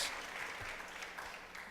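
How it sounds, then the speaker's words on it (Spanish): A church congregation claps in praise during a sermon, a brief, steady patter of applause at moderate distance under faint room ambience. "¿No le da un aplauso usted al Señor?"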